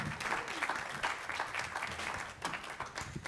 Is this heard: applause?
yes